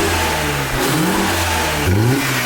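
A BMW E46 318i with a modified intake revs twice in a row, close and loud. Each rev rises in a strong mid-pitched surge before settling back toward a steady idle.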